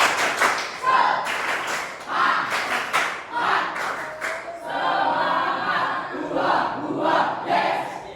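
A group does an Indonesian 'tepuk semangat' patterned clap together in a quick rhythm, sharp and fairly close, with voices calling out between the bursts of claps.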